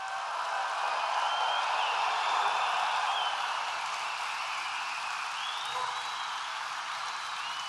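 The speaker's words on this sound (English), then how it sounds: "we want to give them a big, big, beautiful round of applause" Audience applause for veterans at a Trump political rally, a steady broad wash of clapping from a large crowd lasting throughout, fairly even in loudness with no talk over it.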